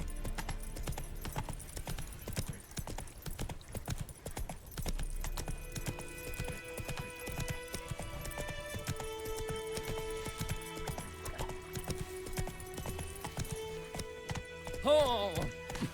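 Rapid clip-clop of a horse galloping in The Witcher 3, the quick hoofbeats running steadily throughout beneath game music and character voices.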